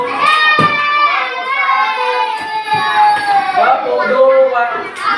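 Schoolchildren in a classroom at an Indonesian elementary school clap in a called-out pattern, a few sharp group claps punctuating an adult's loud instructions and children's voices.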